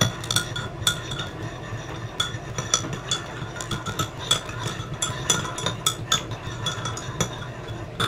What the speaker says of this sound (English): me stirring the oat milk and coffee together